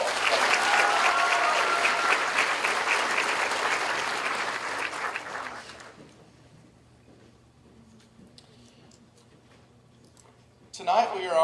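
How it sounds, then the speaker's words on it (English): Audience at a high school senior scholarship night gives a loud round of applause that fades out after about six seconds into quiet room tone, with a brief burst of sound at the very end. "Let's give all these another round of applause."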